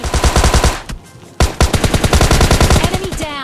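M4 and Tommy gun fire comes in rapid bursts in PUBG Mobile Lite, loud and close, with a short pause before a second fast string of shots.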